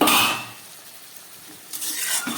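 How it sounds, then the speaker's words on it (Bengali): A lid lifted off a pot of pointed gourd simmering on a low gas flame, a brief metallic clatter at the start, then quiet, then another short clink and rattle near the end, close by. "ঢাকাটা খুলছি"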